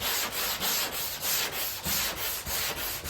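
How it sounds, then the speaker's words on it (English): A car hood's body filler is sanded with 180-grit sandpaper on a block in steady back-and-forth strokes, an even rhythmic scraping close up with no talk. "I'm going to change my sandpaper over to a finer grit."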